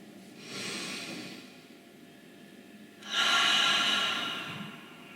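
Two slow, deep breaths during a shoulder-stretching exercise: a soft airy inhale, a pause, then a longer and louder breath that fades gradually, heard close with no talking over it.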